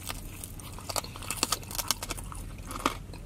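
Crisp bites and chewing of crunchy chicharron, close to the microphone, with a rapid run of sharp crackling crunches in steady rhythm and no talk.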